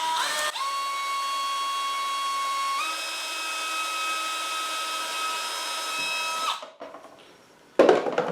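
Power drill driving screws into the wood of a rabbit house, a sustained high whine that steps up in pitch partway through, then stops, followed by a short clatter.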